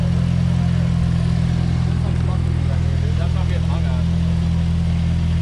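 A Jeep TJ engine running off-road in mud on a rainy day, a loud steady low rumble throughout, with voices talking over it.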